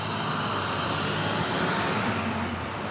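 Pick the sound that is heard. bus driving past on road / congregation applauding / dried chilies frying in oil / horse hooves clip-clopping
bus driving past on road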